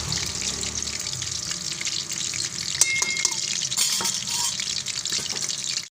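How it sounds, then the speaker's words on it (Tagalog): Potatoes frying in hot oil for a pork adobo, giving a dense, steady sizzle with a few brief clatters of stirring partway through. "Prituhin din natin mga kakusin."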